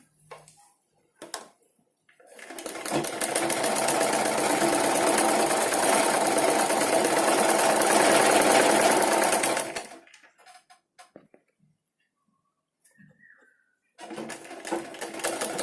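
A sewing machine stitches a blouse, running loud and steady for about eight seconds with a rapid mechanical whir, then stopping and starting again briefly near the end.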